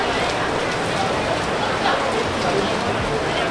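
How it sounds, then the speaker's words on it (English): Steady heavy rain pouring during a thunderstorm in Kuala Lumpur, Malaysia, a loud dense continuous hiss of drops hitting surfaces with no pauses; voices talk faintly under the downpour. "Today on Weather Malaysia, thunderstorms, rain."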